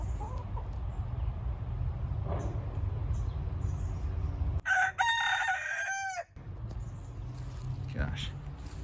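A rooster crows once, loud and close, its long cock-a-doodle-doo standing out over a low rumbling background.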